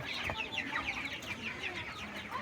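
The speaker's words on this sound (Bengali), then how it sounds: "এখানে সাতশো মুরগি আছে" Many 24-day-old chickens cluck and chatter together in a poultry farm of about seven hundred birds, a dense flock murmur with overlapping calls, steady and moderately close.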